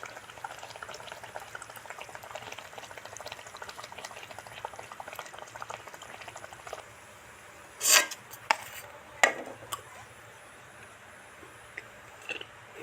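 Tel pitha sugar cakes deep-frying in oil: a faint, continuous bubbling crackle with fine pops, broken by a few louder bursts of sputtering partway through.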